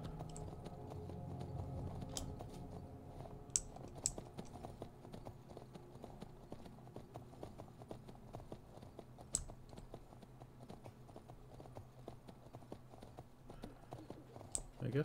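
Horse hooves clip-clop in a steady trotting rhythm in the video game Skyrim, close and fairly quiet, with a few sharper clicks scattered throughout.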